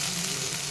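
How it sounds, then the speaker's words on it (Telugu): Chopped onion and curry leaves sizzle steadily in hot oil as a tempering for a simple Manchurian dish, a dense, continuous frying hiss close up, with no voices. "ఒక ఉల్లిపాయ, అండ్ కరివేపాకు వేసి మంచిగా వేపుకుందాం."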